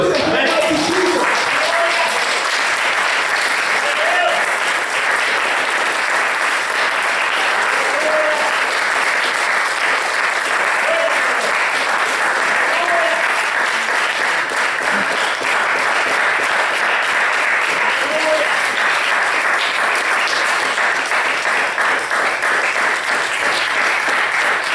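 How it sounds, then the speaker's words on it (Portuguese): Steady, dense applause from a church congregation, continuous and loud for the whole stretch with no pauses. "Uma salva de palmas para o Senhor Jesus."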